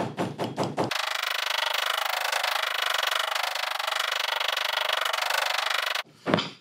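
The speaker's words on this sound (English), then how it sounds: "Always like to tap everything together with a nice flat hammer" A flat hammer pounds glued leather layers of a western guitar strap together, a dense, fast, steady hammering that runs for about five seconds, with a few separate louder taps before and after.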